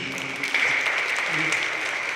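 Brief applause from an audience at a Jeju peace forum session, a steady short burst of clapping at close range lasting about two seconds.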